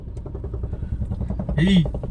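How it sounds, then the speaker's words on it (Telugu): A car engine with a rhythmic, thumping putter like a Royal Enfield Bullet motorcycle pulses quickly and evenly at close range, ending in a brief louder burst. "ఎందుకు మన కారు బుల్లెట్ సౌండ్ అవుతుంది పట్ట పట్ట పట్ట పట్ట పట్ట అంటుంది"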